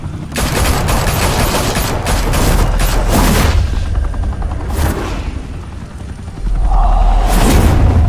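Heavy gunfire in the video game Batman: The Telltale Series erupts as a loud, dense barrage of shots and booms, continuous and close, ending with a deep rumbling roar.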